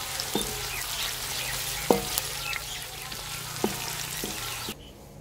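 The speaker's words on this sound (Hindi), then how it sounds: "प्याज को हल्का ब्राउन करना," Onions fry in a pan for a vegetable pulao, a steady close sizzle with a few sharp clinks of a stirring spoon against the pan before the sound cuts off near the end.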